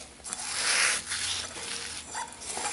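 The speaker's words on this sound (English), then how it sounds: "and rub it with the crumbs" Bare hands rubbing butter into crumbs for a chicken pot pie make a soft, continuous close-up rustle and scrape that swells and fades in waves, with no voices.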